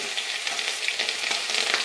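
Crushed ginger dropped into hot oil with mustard seeds already popped, giving a steady close hiss and crackle of frying with no talk.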